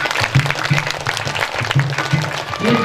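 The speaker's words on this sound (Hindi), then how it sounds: "एक बार जोरदार ताली बजाइए इनके लिए।" Gathering at a Bhagwat religious discourse claps for a bhajan writer, a loud dense burst of many hands with a short recurring tonal sound and voices mixed in beneath the clapping.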